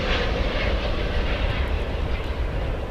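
A Fiji Airways airliner arriving from Nadi passes over DFW airport with a steady, loud broadband jet roar that holds for several seconds. No voices are heard.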